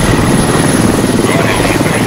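A military helicopter in the game Squad thunders steadily up close, its rotor and turbine roar loud and continuous throughout.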